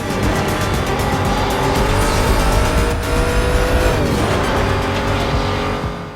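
Race cars from Need For Speed: Most Wanted roar through a long circuit race, with loud, steady engine drone, rising and falling revs and brief tire squeals throughout, no voices.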